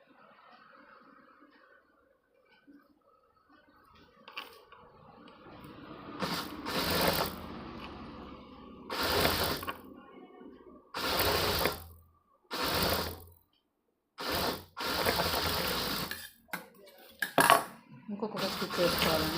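A sewing machine stitches a kaja patti on a garment in several loud, clattering bursts of rapid mechanical ticking, separated by short pauses. Quieter handling noises come before the stitching, and no one talks.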